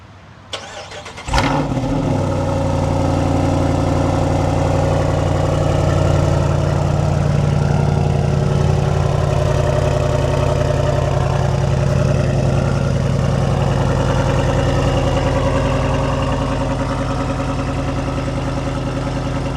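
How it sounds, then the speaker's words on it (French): A Jeep Wrangler 392 with its V8 Hemi engine cold-starts with a sharp crank and catch, then settles into a loud, steady, deep rumbling idle that carries on close up with no talking. "Je vais vous faire écouter un petit peu le son du moteur. Bon, je vais vous faire un petit cold start."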